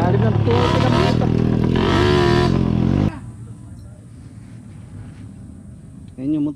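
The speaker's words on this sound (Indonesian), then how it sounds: "Ayan yung motor dito." An off-road dirt bike on a muddy trail at Sitio Bato, Doña Remedios Trinidad, roars loud and rough for about three seconds, then drops to a softer, distant rumble with a brief louder burst at the end.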